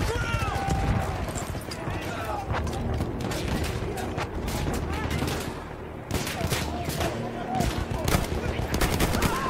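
Battlefield 1 video game trench combat with single-shot rifle fire among sharp repeated gunshot cracks and a constant roar of battle, plus mechanical clanks and intermittent voices over the din.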